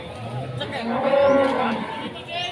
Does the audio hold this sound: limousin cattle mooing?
yes